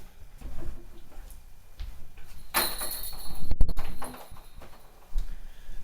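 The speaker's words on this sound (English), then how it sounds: "let me close this door behind me" A door swings shut close by with a dull thud, followed moments later by a couple of quick latch clicks in an otherwise quiet room.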